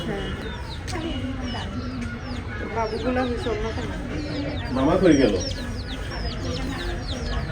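A mother hen clucks softly among high, rapid chick peeps, with people talking throughout at a wedding.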